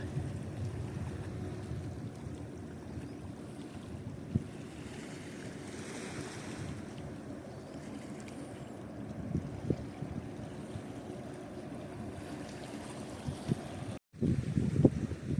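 A newly arrived ship at Misaki harbor in Japan sits in a steady wash of water and wind, with low, continuous rumbling and surf-like noise at the quayside and a brief bump near the end.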